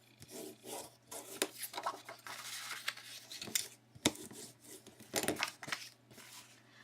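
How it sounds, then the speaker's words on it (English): Paper is folded and burnished for a flip folio, giving close, soft rubbing and rasping strokes in uneven bursts, with a faint steady hum underneath. "Let's fold and burnish."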